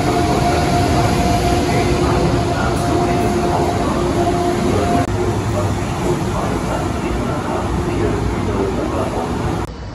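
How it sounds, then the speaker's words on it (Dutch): Steady rumble and hiss from a train standing at a German station platform, a Cologne-bound service arriving from Hamburg, continuous and fairly loud, with a high-pitched whine held throughout. "De trein die hier achter mij staat is niet de trein richting Aken, maar de trein naar Keulen, de trein uit Hamburg."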